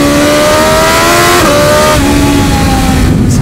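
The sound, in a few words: BMW S1000XR motorcycle engine revving while downshifting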